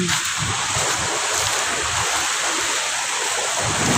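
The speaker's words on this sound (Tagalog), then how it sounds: "Hahawakan natin ang dagat. Ayan oh, ayan oh." Sea waves wash continuously onto a beach shore, a loud, steady roar of surf and foam with faint wind, no voices heard.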